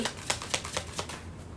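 Tarot cards are shuffled close up in a quick run of soft riffling flutters, several short bursts over under two seconds, with no talking.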